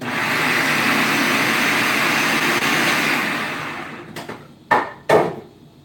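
Food processor chopping chorizo ingredients runs with a steady, loud whirring drone for about four seconds, then stops, followed by a few short pulsed bursts near the end.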